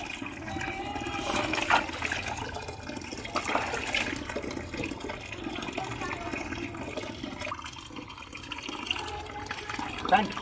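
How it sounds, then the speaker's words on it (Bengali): Water poured over a small deity idol seated in a basin for its bath, a continuous splashing and trickling flow, close and fairly loud, with a voice speaking faintly over it at times. "আমার মাধব সোনা জল পড়ছে"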